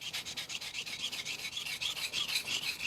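A knife blade rubs back and forth across a 1000 grit whetstone in quick, even strokes, a close and fairly soft rhythmic rasping with no voices.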